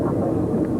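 An Indonesian Air Force jet transport aircraft, flying in a six-plane group at a 1996 air force anniversary flypast, gives a loud, steady, broad roar for under a second.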